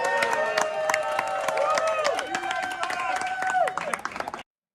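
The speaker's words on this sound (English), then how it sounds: "A round of applause" Audience at the People of Video 2022 conference clapping and cheering, dense and steady for several seconds with whoops over the top, then cutting off abruptly.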